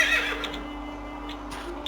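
Horse in The Quinfall video game gives one loud, close whinny at the start, followed by faint hoof clip-clops and light game sounds.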